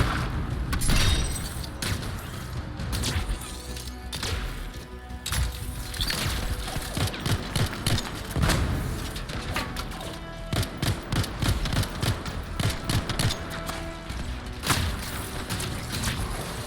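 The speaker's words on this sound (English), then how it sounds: "It'll be a contained explosion." A contained explosion in the sci-fi shooter Anthem erupts into a dense, loud barrage of booms, crashes and rapid gunfire-like bursts that continue without pause.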